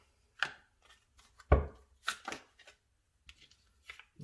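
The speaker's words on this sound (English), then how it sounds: "You guys are seeing me shuffle, guys." Tarot cards being shuffled by hand make scattered, sharp riffling snaps and soft slaps in short irregular bursts, close and fairly quiet, with pauses between them and no talk.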